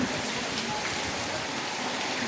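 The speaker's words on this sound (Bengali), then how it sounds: "এই যে দেখেন বৃষ্টি হইতেছে প্রচুর বৃষ্টি হইতেছে" Heavy rain pours down in Ramganj, Lakshmipur, a dense, even hiss of drops on surfaces, continuous and loud throughout with no voices.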